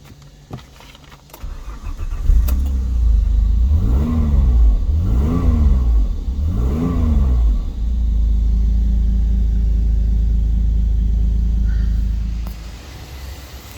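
An Alfa Romeo 164 3.0 V6 24v engine cranks and starts, then revs up three times in rising and falling sweeps before settling into a steady low idle rumble.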